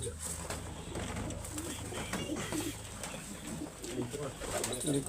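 Soft Cheena pigeon coos repeat in low, throaty bursts under a steady background hum, with a voice speaking now and then nearby.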